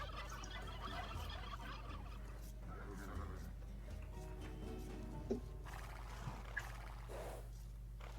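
Faint turkey gobbling in Age of Empires amid a steady low hum and scattered game-like noises, with occasional soft clip-clop and brief clicks.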